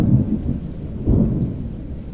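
Low rumbling thunder from an approaching severe storm, heard outdoors in two swells, the second stronger and nearer, with faint insects chirping in the background.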